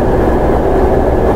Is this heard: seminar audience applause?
no